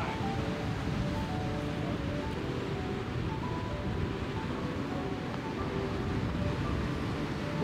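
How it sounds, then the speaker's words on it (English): Ocean surf rolls in along the coast at Pebble Beach golf course, a steady low roar of breaking waves mixed with wind rumble, with no talking. "Waves roaring"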